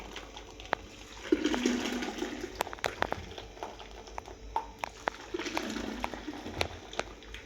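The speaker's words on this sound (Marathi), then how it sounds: "हे पातळ पाणी असल्यामुळे अगदी सहज असे हे पडत आहे" Thin wheat starch water pours through a strainer, giving a soft, running liquid splash in two longer stretches. Scattered sharp clicks and taps sound around them, and no one talks.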